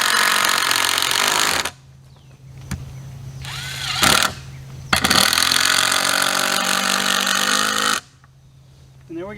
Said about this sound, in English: we're going to throw in a couple screws just to hold it in place